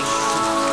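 Heavy pouring rain, a dense, loud, steady wash of drops beating on a surface with no pauses and no voices.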